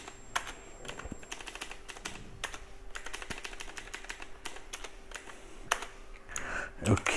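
Typing on a computer keyboard while indenting Python code, a steady run of crisp key clicks with brief pauses and a few heavier keystrokes, close and clear over faint room hum.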